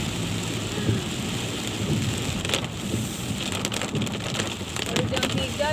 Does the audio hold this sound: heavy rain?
yes